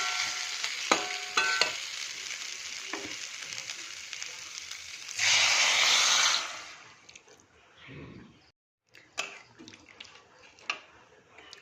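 Water poured into spice masala frying in a pan, a loud hissing rush of steam bursting up over the steady sizzle and stirring, then dying down to quieter bubbling and scraping.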